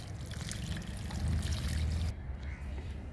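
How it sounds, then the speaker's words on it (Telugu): Aloe vera liquid fertilizer is poured onto a banana plant, a close, steady trickle and splash for about two seconds that then stops, leaving a quieter background. "అరటి మొక్కకి ఇస్తున్నాను లిక్విడ్"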